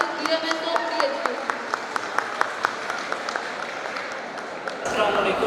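An audience at a Nurses Day event applauds a speaker invited to the stage, a steady wash of clapping with distinct individual claps standing out throughout, fairly close, ending with a brief shift in room noise.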